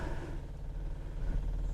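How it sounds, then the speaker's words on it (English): An electric pump runs in the back of a Classic Mini with twin carburettors, giving a low, steady mechanical hum and drone that stays constant and fairly faint throughout. "The noise you can hear is a pump, electric pump in the back."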